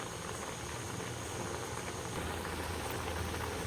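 Dahi ambula besara gravy boiling steadily in a pot, a continuous dense bubbling hiss that stays even and close throughout with no voices.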